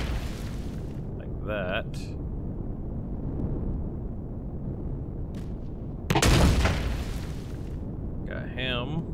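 Rail gun fire in Empyrion Galactic Survival during a fight with a gunship: a loud booming blast breaks out amid ongoing game noise, with someone talking before and after.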